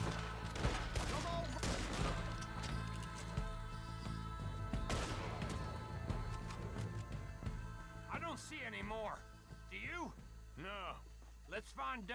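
Rapid bursts of gunfire from Red Dead Redemption 2 crack repeatedly through a busy game mix, with overlapping in-game voices and a steady low hum underneath.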